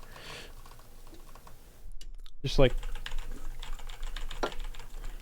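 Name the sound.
typing on a computer keyboard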